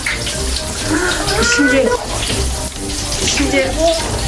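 Strawberry-scented bath crystals crackle and fizz as they dissolve in water, a busy mix of small pops over a watery wash. A voice talks faintly in the background.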